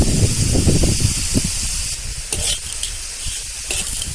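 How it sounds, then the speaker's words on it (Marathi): Green chillies roasting and being stirred in a pan for a Maharashtrian kharda, loud close sizzling and hissing with scraping stirs throughout, no talking. "व्यवस्थित भाजून घ्यायचं असं डाग पडून म्हणजे खरडा चांगला चवीदार होतो"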